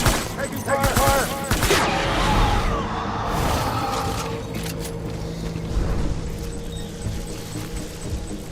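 Bursts of gunfire in the video game Death Stranding, a dense crackling volley loudest in the first few seconds, then thinning into a steady rumble of distant shots and mechanical noise.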